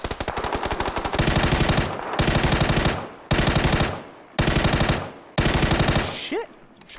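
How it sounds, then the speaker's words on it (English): Automatic gunfire from the video game PUBG rattles out in about five loud, rapid bursts separated by short pauses, each a dense stream of shots, with a fading tail at the end. "Shot the guy hella times."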